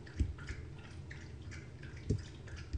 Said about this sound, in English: Oh, my dog's drinking. Can you hear that?